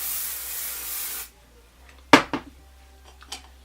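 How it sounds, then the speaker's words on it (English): Kenra 25 hairspray sprays in a long, steady hiss for about a second, then stops, followed by a few soft clicks and taps. "I'm going to take and spray it with my Kenra"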